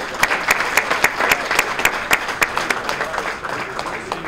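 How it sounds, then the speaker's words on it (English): Enthusiastic audience applause fills a room at a chamber of commerce legislative luncheon, steady dense clapping with some sharper individual claps, loud and close throughout. "let's have a round of applause for them"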